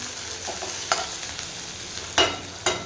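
Onion and tomato sautéing in a pan for masala okra, a soft steady sizzle with a few sharp spoon scrapes and stirring knocks against the pan.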